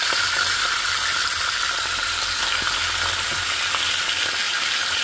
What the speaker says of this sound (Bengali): আমি এখন পাবদা মাছগুলো একটু লবণ আর হলুদ দিয়ে একটু হালকা ভেজে নিব